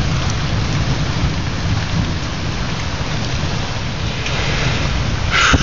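Heavy rain pours in a dense, steady roar during a severe thunderstorm in Grant County, with deep rumbling underneath, loud and close throughout with no talking.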